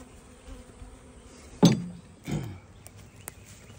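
Honeybees buzz faintly in an outdoor bee yard. Two louder close passes or knocks rise briefly above the low background hum, with a few light clicks.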